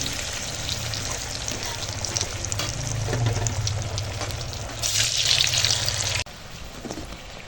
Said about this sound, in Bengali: চলো আমি এখন এগুলোকেও ভেজে নিই